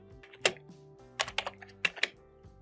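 Keys clatter on a computer keyboard in a short, irregular run of close, crisp taps with brief gaps, over a faint steady background hum.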